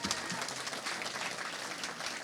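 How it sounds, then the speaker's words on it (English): A school speech-team audience gives a round of applause at a fall speech night, a steady wash of many hands clapping at moderate distance for a couple of seconds, with no voices on top. "One more clap, please. One more round of applause."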